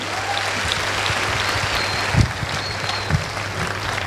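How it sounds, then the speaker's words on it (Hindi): Sustained applause from a crowd, steady clapping throughout with a couple of louder bursts, no voices over it. "ादुर शर्मा सर को और माधव सर और विजयपाल जी को इन चारों महागुरुओं के लिए जोरदार तालियां दोस्तों"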